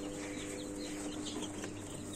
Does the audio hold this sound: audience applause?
no